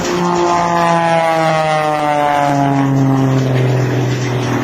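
An Extra 300 aerobatic propeller plane performs at an air force base open house air show. Its loud, droning engine sweeps steadily downward in pitch as it passes, with no talk over it.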